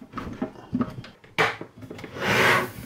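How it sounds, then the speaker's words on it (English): Plastic lid of a 1979 Pioneer CT-F500 cassette deck lifted off after unscrewing, a close scraping rub followed by a louder drawn-out sliding scuff, with no talking. "There's 2 screws this side, 2 screws that side, and the bonnet should just lift off."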